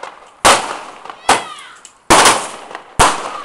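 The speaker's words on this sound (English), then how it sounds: "That comet burst is going to so destroy the garden." Comet burst fireworks on Bonfire Night go off in four sharp, loud cracks spaced roughly a second apart, each with a short crackling tail, heard close in a garden.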